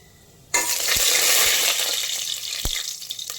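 Cashews and cumin seeds hit hot oil in a pan with a sudden loud hiss that holds steady as a bubbling sizzle, easing slightly over the following seconds, with faint stirring clinks underneath.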